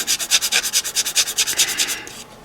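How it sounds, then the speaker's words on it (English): A nail file rasps across acrylic nails in quick, even strokes, about a dozen close scratches in a steady rhythm before stopping, with no voices. "I do have a little bit of filing, so if you guys want to just go in, you know, touch up your sides, clean up around your cuticle area"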